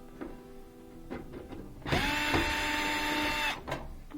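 A power drill whirs for about one and a half seconds, driving a screw into the sheet metal of a Samsung electric dryer, with a rising pitch and short clicks and handling knocks before and after.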